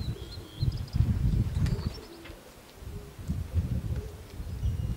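Racing pigeons coo and flutter nearby at their loft in Gdańsk as they return from a race, with a burst of wing flapping as a bird lands, soft low rumbling cooing throughout.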